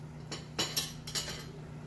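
A spoon scoops thick condensed milk for ube halaya, giving a few light metallic clinks and scrapes against the container over a quiet kitchen hum.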